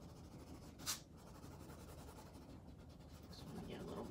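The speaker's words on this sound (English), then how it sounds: "Let's erase him." A pencil drawing is rubbed out with a soft eraser, giving faint scratchy strokes and one brief louder swipe, quiet and close in a calm room.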